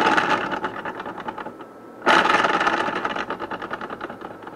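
An unbalanced wheel spun by hand, first one direction then the other, whirring with a pulsing, wobbling rhythm that fades, breaks off briefly, then surges loud again as it is spun the opposite way; no voices.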